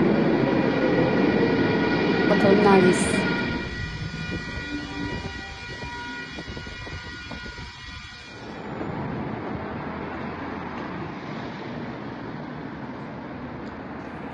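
An underground metro train rumbles and screeches loudly through Opera station in Budapest, then recedes into echoing platform noise, with a brief voice speaking.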